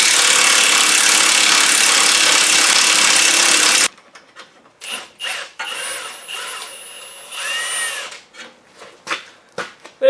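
Power tool, likely an impact gun, spinning out a 14 mm ball joint bolt on a Mazda 5 lower control arm: a loud steady whir for about four seconds, then quieter clinks and rattles of the socket and bolt.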